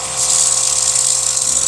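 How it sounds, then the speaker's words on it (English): An airbrush spraying black paint onto a Mechagodzilla model, a short close steady hiss with a faint motor hum underneath, no voices. "the closer you are with the brush, the more of the paint will come out as a direct spray"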